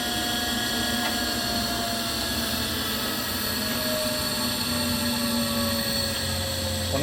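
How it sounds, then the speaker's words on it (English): A Cincinnati No. 2 tool and cutter grinder runs continuously with a steady, loud whine and mechanical hum, with a few faint tonal sweeps, no talking. "This is our number 2 Cincinnati tool and cutter grinder."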